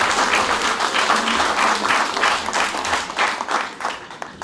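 Audience applause at a New Year's cake-cutting event held by the Petrified Forest Museum of Lesvos: many hands clapping in a loud, sustained burst that tapers slightly toward the end.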